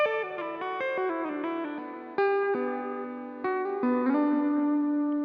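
Electric guitar tapping a quick, eerie blues-flavored riff drenched in reverb and delay with heavy compression, rapid bright note sequences sustaining smoothly into longer held tones, close and solo without voices.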